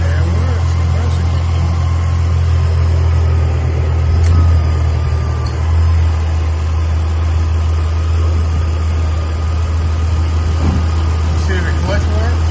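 A 2005 Ford Mustang running with its air conditioning compressor engaged, a steady low engine drone and hum holding throughout at close range, with brief faint clicks and a voice speaking at times.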